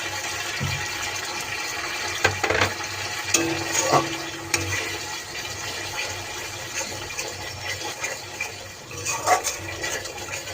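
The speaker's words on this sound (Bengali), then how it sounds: "এখন দিয়ে দিব কাজু আর পোস্ত বাটাটা।" Cashew and poppy seed paste is added to a hot frying pan for curd katla fish and stirred, giving a sizzling, bubbling hiss with intermittent scraping and knocking of the spoon, fairly close.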